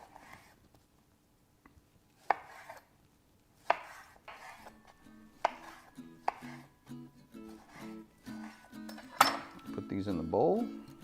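A knife chopping Roma tomatoes into chunks on a board, sparse irregular thuds at first that quicken into a steady run of cuts, close and fairly quiet, with faint clinks near the end.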